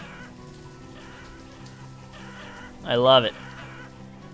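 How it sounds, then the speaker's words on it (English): Chickens cluck in the village-building game Banished, with soft repeated clucks and then one loud, close squawking call near the middle, while someone talks over it. "So many chickens."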